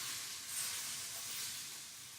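Tri-tip beef just flipped in a hot pan for a pot roast, giving a steady, dense sizzle and hiss that holds evenly throughout, fairly quiet and alone without talking.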